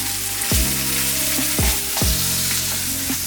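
Thin steak meat sizzles loudly in a pan for a Philly cheese steak, a dense continuous hiss broken by a few sharp scrapes of a spatula against the pan surface.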